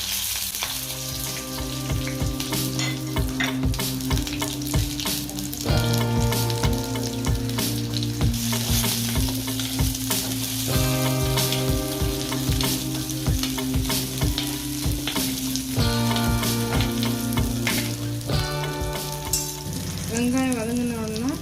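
Small onions and green chilies sizzle in hot oil in a pan, a continuous frying hiss with occasional stirring, partly masked by melodic background music playing throughout.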